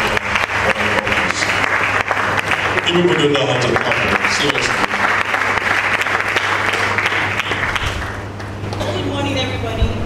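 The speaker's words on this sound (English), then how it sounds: "Please, one more time, a round of applause for Fon Abia as she comes up." An audience at a malaria day quiz competition gives a round of applause, a continuous loud clapping wash with a steady hum underneath while a voice talks over it, thinning out near the end.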